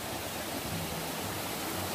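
A river near the Mingus Mill bridge in the Great Smoky Mountains rushes as a steady, dense broadband wash. It is close and uninterrupted, with no voices over it.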